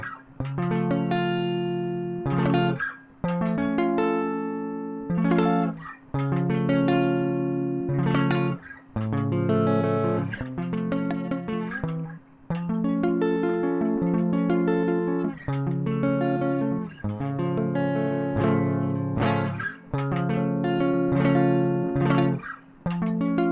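Electric guitar rhythm chords played on the bottom four strings, a steady pattern of strummed chords repeated with brief gaps between phrases, loud and close with no talking.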